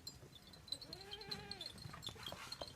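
A goat on a goat farm lets out one wavering bleat in the middle, fairly close, over a steady outdoor background hiss.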